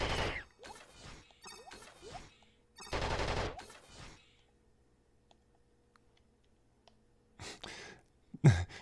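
Gunfire rings out in the video game Flashback as several loud, clipped bursts with mechanical clicks, followed by near silence and a few more sharp shots.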